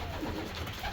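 Racing pigeons coo at the loft, a soft, close cluster of throaty calls over a brief, steady background.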